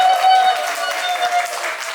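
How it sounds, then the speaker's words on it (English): An audience at a self-improvement seminar applauds itself, a short stretch of crowd clapping with a sustained tone ringing underneath, fairly loud and steady. "Give yourself a round of applause."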